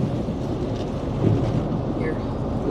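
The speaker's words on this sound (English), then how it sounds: "It's windy." Wind buffeting outdoors, a low, rough rumble of gusts across the microphone that swells and eases throughout, fairly close and constant, with a faint voice briefly underneath.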